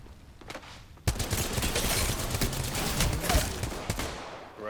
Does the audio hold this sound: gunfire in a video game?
yes